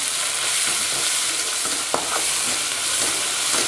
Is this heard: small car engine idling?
no